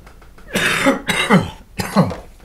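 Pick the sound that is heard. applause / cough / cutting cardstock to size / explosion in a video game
cough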